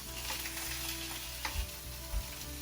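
Sausages fry over low heat in a pan, giving a steady close sizzle broken by a couple of soft knocks as they are turned over.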